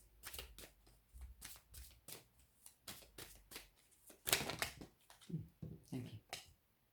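Tarot cards being shuffled in repeated riffling bursts, close and crisp, with a person speaking at points between the shuffles.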